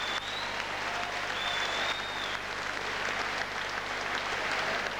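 Sustained applause from a boxing match crowd after a round ends, a dense continuous clatter of clapping filling the arena at steady volume, with faint whistles over the top.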